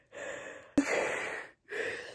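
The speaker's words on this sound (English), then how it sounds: "These yawns, though." A person yawns twice, soft breathy exhalations with a sharp intake between them, close and quiet with no talking.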